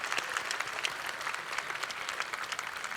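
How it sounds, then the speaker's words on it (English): A chamber of commerce banquet crowd applauds its sponsors with steady, dense clapping that sounds somewhat distant and moderately quiet, with no talk over it. "Let's give them a round of applause."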